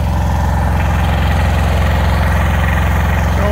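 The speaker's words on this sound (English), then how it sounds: "Get on that tractor." A tractor engine idles close by in a loud, steady low rumble with regular firing pulses, continuous for the whole stretch and no voices.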